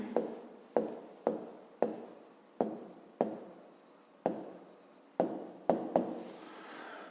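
Chalk or marker tapping and scratching on a classroom board during a fifth-grade math lesson, a series of about a dozen sharp strokes with short decaying scrapes, close and fairly quiet, with no talk over it.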